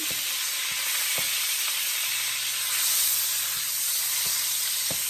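Meat frying in a pan of oil during preparation of a traditional African pasta dish: a steady bright sizzle and hiss with a few faint clicks of stirring, close and even, no voices.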